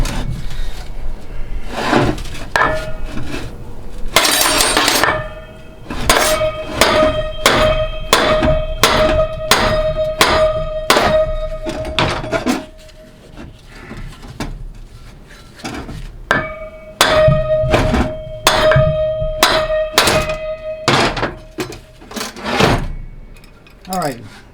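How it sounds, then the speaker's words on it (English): A big hammer pounds repeatedly on a stuck GM 200-4R automatic transmission drum during a teardown, loud ringing metallic blows in fast bursts with short pauses, close by with no talking. "we're going to wail on it until I can separate it if I can."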